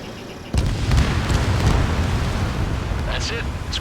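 An enemy bomber explodes in the Ace Combat 7 flight game, a sudden loud burst followed by a sustained roaring rumble, with faint radio chatter underneath.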